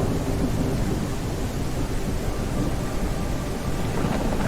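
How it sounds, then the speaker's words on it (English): Simulated thunderstorm in the VR game Kayak VR: Mirage, a steady wash of rain and low rumbling thunder that fills the whole stretch at even loudness, with no voices. "And I thought Uncharted 4 had the best simulated thunderstorm effects"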